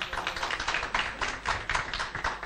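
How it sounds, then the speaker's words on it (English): Audience at a tech day event gives a short burst of applause, a few seconds of scattered, fairly faint hand clapping. "can we have a big round of applause for him?"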